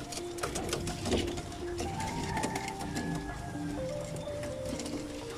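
Soft cooing of pigeons, several calls overlapping at moderate distance, with steady background hum and faint clatter.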